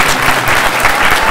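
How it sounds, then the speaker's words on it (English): An audience at a Rareware reunion panel at a game expo claps loudly and continuously, a close, dense burst of applause with no speech. "Let's give them a round of applause."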